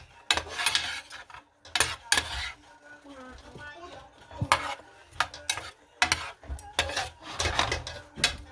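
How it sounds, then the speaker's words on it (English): Onion and tomatoes cook together in a pan on a gas stove set to medium, with repeated clinks and scrapes of a utensil stirring against the pan over a soft, continuous cooking noise. "I'm going to add some tomatoes there. And I'm gonna have them cook together."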